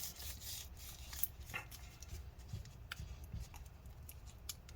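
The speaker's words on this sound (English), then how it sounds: "peel out the adhesive" Adhesive strip is peeled away inside an HP Pavilion 17 laptop, producing faint, scratchy rubbing and tearing crackles in short irregular bursts, quiet and close, with no speech.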